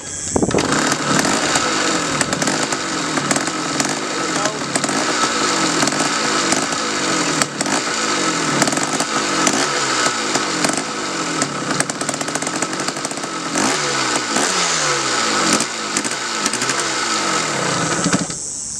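Yamaha Tri Z 250 ATV two-stroke engine running after a choked start, a loud, buzzing, uneven idle and revving that continues throughout, close by and alone without talk.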